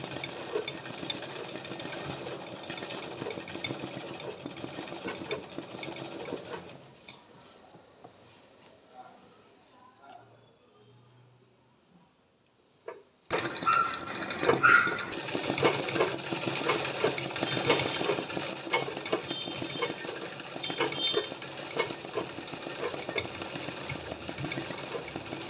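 A foot-pedal sewing machine stitching embroidery chatters in a fast, steady run, then falls nearly silent for several seconds before resuming, close and clear, with a voice speaking over it.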